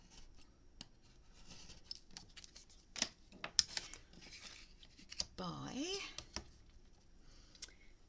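Scissors trim paper for a memory book with quiet snips and crisp cutting strokes, plus some faint rustling and crinkling of paper, close by and soft.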